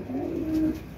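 A pigeon gives a single short, soft coo, low and close, lasting about a second.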